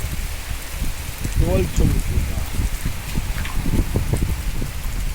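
Steady heavy rain pours down with a constant low rumble, and a person talks briefly over the downpour.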